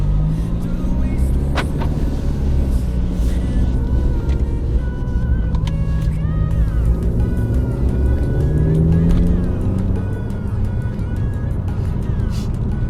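A Mercedes C250 W204 engine fitted with a Mustang blow off valve runs in a continuous loud, steady rumble, close up, with no talking.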